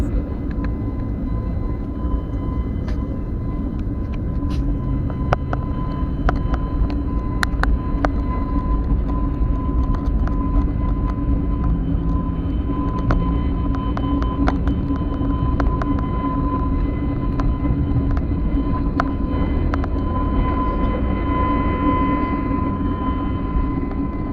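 A passenger airplane accelerating down the runway for takeoff at Mumbai airport, a loud steady engine roar with a whining tone that holds throughout, heard from inside the cabin.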